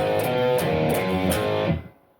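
Distorted electric guitar power chords, E5 and A5, ringing loud and sustained for about two seconds before being cut off abruptly, no voices.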